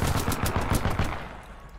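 A fast burst of automatic gunfire from a gun in the video game Titanfall 2, a dozen or so sharp, evenly spaced shots close and loud, then a quick fade into the tail.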